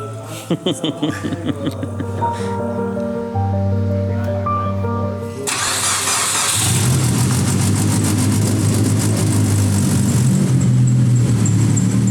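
A Mitsubishi Evo X with a freshly redone head revs hard on a dyno power run, the engine roar rising and sustained loud after an opening stretch of speech-like tones and brief chatter.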